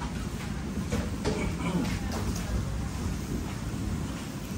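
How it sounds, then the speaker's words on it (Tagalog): Steady rain pours outdoors during a backyard barbecue grilling session in the Philippines, with low rumbling thunder beneath the constant hiss and a few sharper drops standing out. "Umuulan na pala."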